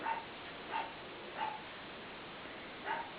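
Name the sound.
dog barking in the background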